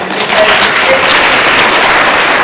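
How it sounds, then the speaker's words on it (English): Conference audience applauding, a dense, steady wash of many hands clapping close by that fills the whole stretch without talk. "I just want to give you a round of applause again."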